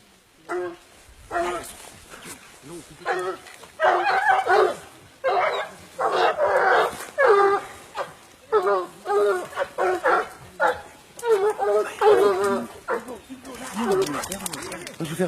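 A pack of Gascon Saintongeois hounds bays on wild boar during a pack-hunting contest, loud overlapping howls and barks in bursts, fairly close, with people talking quietly between them.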